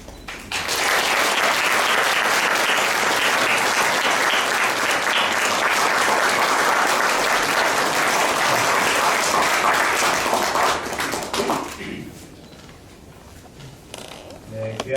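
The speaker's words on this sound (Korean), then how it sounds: "우리 모두 함께 축하와 기쁨의 박수로" Loud, sustained applause from a large audience at a church book publication thanksgiving service for about eleven seconds, then fading to quiet room noise with a few scattered claps.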